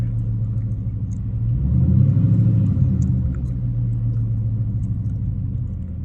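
A 2012 Dodge Charger SRT8 V8 in manual mode, its engine giving a deep steady rumble that swells briefly in a rev before settling back to a heavy idle, close and loud with no talking.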